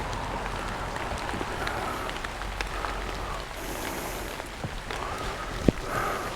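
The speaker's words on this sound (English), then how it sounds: "because it's raining so hard" Heavy rain falls on ground and surfaces in a chapel graveyard, a steady close hiss with scattered louder drops and one sharp knock near the end.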